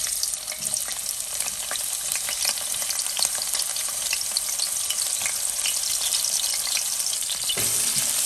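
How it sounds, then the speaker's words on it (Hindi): Garlic, spring onion and ginger sizzle in hot oil in a wok, a dense, steady frying crackle with occasional stirring scrapes, close and continuous with no speech. "ऑयल को थोड़ा सा गर्म करके हम लहसुन, स्प्रिंग अनियन और अदरक,"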